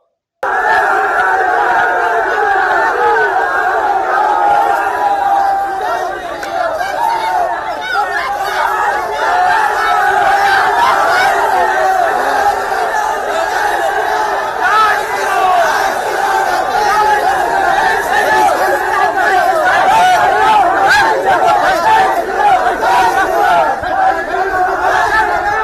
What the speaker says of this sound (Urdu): ہندو انتہا پسند لڑکوں کو درجنوں کی تعداد میں ایک گروہ جے شری رام اور دوسرے مذہبی نعرے لگا رہے تھے